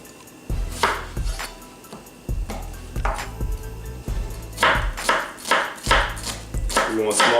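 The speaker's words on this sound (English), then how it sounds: "Then we're going to finish dicing our onion." A knife dices onion on a cutting board, its strikes close and crisp. They come in short uneven bursts of quick repeated chops with brief pauses between.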